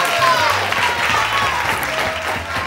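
A television show studio audience applauds steadily and loudly throughout, with a low musical tone and some voices underneath.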